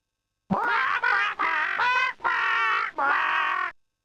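Honking fowl from the 1995 computer game Elroy Goes Bugzerk: a loud, close run of five or six nasal, reedy honks in quick bursts with brief gaps, sounding cartoonish and grating, alone without other sounds.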